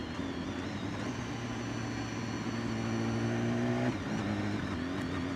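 Engine of a 2016 BMW S 1000 RR motorcycle on the road, a steady droning hum that rises slightly in pitch before dropping sharply as the bike downshifts, then settles at a lower tone.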